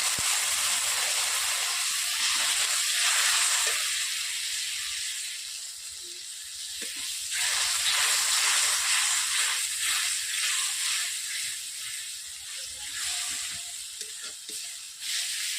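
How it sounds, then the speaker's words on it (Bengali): Water splashed onto spices frying in a wok for a Bengali mustard rohu fish curry sets off a loud, steady sizzle and hiss that surges, fades and flares again, with no talking. "যেহেতু কড়াইতে লেগে যাচ্ছে তার জন্য আমি অল্প করে একটু জল দিয়ে"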